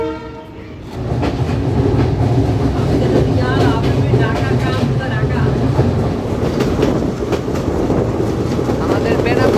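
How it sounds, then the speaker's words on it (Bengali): Benapole Express passenger train running on rails toward Jessore, a loud steady rumble with rhythmic clatter of wheels on track throughout, heard from on board. "আমাদের বেনাপোল এক্সপ্রেস ছুটে চলেছে যশোরের উদ্দেশ্যে"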